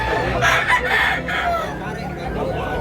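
Roosters and hens at a poultry market in Tabunok, Cebu, giving a couple of loud crows and clucks close by over continuous background chatter from the crowd.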